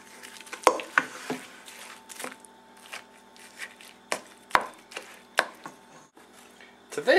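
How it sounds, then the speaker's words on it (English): Knife chops mozzarella cheese on a cutting board in a home kitchen, a series of sharp, irregular taps close by, spaced about half a second to a second apart. "I'm slicing mine up a little bit, chopping it up a little bit, so that it will mix in well"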